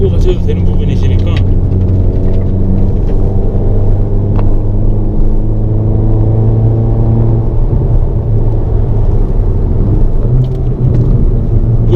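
A car engine drones loud and close as it pulls steadily in third gear around a race circuit during a track day, a sustained rumble with a voice speaking over it.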